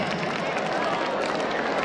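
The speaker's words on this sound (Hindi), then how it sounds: "तालियां बजा दें भाई" A crowd at a Ganesh festival bhajan evening applauds to welcome a guest from Delhi. The clapping is dense and continuous, mixed with crowd noise and a voice over the top.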